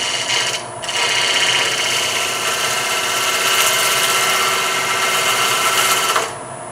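A wood lathe spins a segmented oak piece at about 1,000 RPM while a tool cuts it, producing a loud, steady rasping whir that runs without a break for several seconds.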